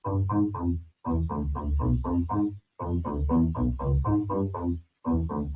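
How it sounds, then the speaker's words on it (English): Compressed synthesizer bass with a punchy attack, playing repeated rhythmic phrases in short bursts separated by brief gaps, loud and close with no talking. "it makes the bass sound a little bit punchier"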